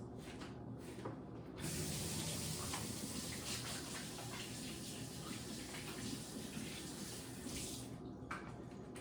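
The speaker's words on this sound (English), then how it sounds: "let me wash my hands" Water runs steadily from a tap as hands are washed beneath it, a continuous broadband splash lasting several seconds with a brief louder surge, close and alone with no talking.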